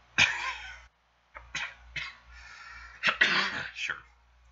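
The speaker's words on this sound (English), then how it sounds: "You just coughed." Someone indoors gives a few sharp coughs and throat-clearing bursts, close to the microphone, with short gaps and a low hum underneath.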